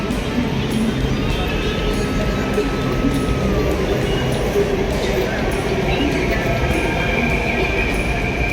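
A metro train rumbles steadily along with a constant roar and occasional high squeals, amid the murmur of a crowded carriage.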